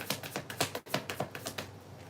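Tarot cards being shuffled, a quick run of soft crisp riffling taps in a steady rhythm, close and quiet with a brief pause midway.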